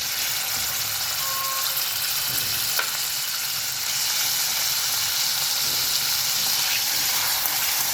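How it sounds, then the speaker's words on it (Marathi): Paneer fries in a pan of oil and ghee, giving a continuous, close hiss and sizzle that holds steady throughout with no voices. "याच्यामध्ये आपण आपलं पनीर थोडंसं आधी फ्राय करून घेऊया."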